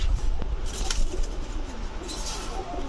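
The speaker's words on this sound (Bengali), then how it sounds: "এটা হচ্ছে কাটাওয়ালা সাকি টেডি মাদি কবুতর" A female Saki Teddy pigeon coos softly and continuously, close by, against a steady background hiss with no talking.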